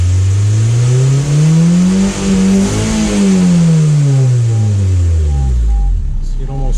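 A car engine, jacked up after a gauge pod and wideband sensor install, revs up and back down in a loud, close rising-and-falling drone, with a thin squeal near the end.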